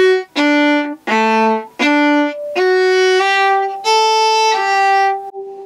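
Bowed violin notes from the fiddle tune John Ryan's Polka, with several short detached notes and then longer slurred pairs, played solo, up close and at a steady loud level.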